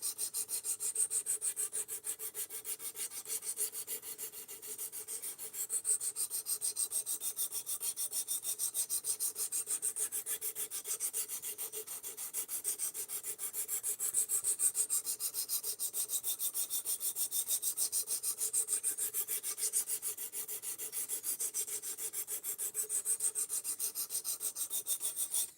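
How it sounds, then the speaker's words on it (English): A knife blade of very hard steel ground on a sharpening stone, a continuous, steady rhythmic rasping of back-and-forth strokes that runs close and even for the whole stretch with no talk. "Right now, sharpening it's going kind of slow."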